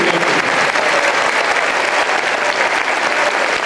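A large crowd at a Veterans Day opening ceremony for a travelling memorial wall claps steadily and loudly, a thick, unbroken wash of applause from start to finish.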